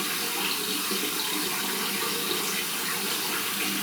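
Water runs steadily from a bathroom tap into the sink during a face-washing skincare routine, a continuous close hiss and splash with no talking.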